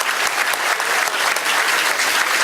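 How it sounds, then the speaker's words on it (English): Dense, steady audience applause for priests and nuns at a Chaldean American chamber awards dinner, continuous and fairly loud with no talking over it. "we should give them also a round of applause"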